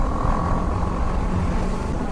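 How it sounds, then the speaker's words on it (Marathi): A BMW 310 motorcycle engine drones steadily while riding, a close continuous hum mixed with wind rush, no voices. "मजा तर आहे भाई BMW चालवायला नो डाऊट"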